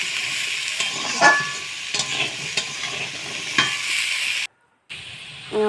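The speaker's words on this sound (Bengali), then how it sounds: "এখন আলুটা ভাজা হোক" Potatoes frying in oil in a pan, a steady close sizzle with occasional scraping stirs and clinks, briefly cut to silence near the end before resuming.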